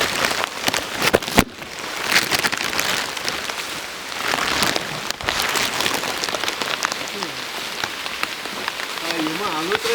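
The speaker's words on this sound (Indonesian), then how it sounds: "Hujan cuy, kita harus lari." Heavy rain pouring on a mountain hike near a volcanic crater above Lembang, a loud, steady hiss of drops hitting surfaces close by, with voices talking underneath and a wavering whistle-like tone near the end.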